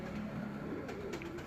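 Pigeons at a breeder's loft cooing in a soft continuous low warble, close and steady for a brief moment with no talk.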